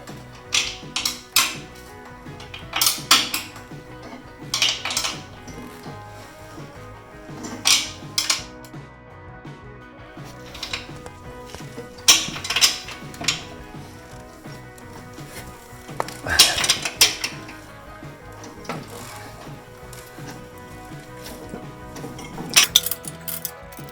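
Metal tool clinks and ratchet-like clicks while tightening bolts on a DR wood chipper, irregular bursts of close metallic tapping spread through a steady low background.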